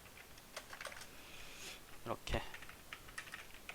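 Typing on a computer keyboard while coding a game, a fast patter of light key clicks with a couple of heavier strokes, quiet and close under brief Korean speech.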